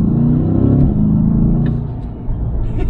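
A Chevrolet Corvette C8 Stingray engine pulling hard under acceleration, a loud, deep, steady rumbling roar that eases slightly toward the end, heard close and alone.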